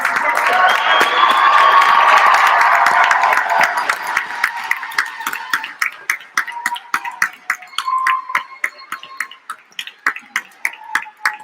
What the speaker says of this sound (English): give us a roar, and give us a round of applause for your support system